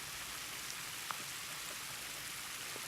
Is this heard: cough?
no